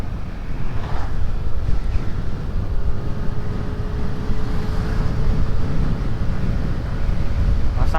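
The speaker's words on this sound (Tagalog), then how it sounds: "Yo, lakas ng hangin." Strong wind buffets the microphone on a motorcycle ride in Camarines Sur, a loud, continuous low roar with gusty surges, and a faint engine hum underneath, with no talking.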